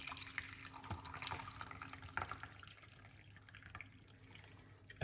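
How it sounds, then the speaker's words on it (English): Hot beetroot, ginger and lemon tea poured into a cup, a close, continuous trickle with small splashes and drips, no talking over it. "Let's pour out this beautiful cup of tea this evening."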